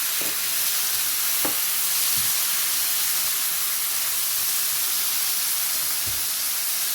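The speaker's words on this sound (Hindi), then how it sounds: "देखिए अब इसमें हम अपने टमाटर डाल देंगे" Four tomatoes go into a hot pan for shakshuka, raising a steady, even sizzle and hiss with a few soft stirring knocks.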